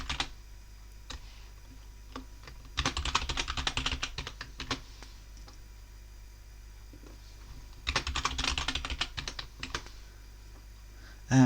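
Fingers type a username and password on a computer keyboard during Elementary OS 8 setup, with two short bursts of rapid key clicks separated by a quiet stretch and a soft knock at the end.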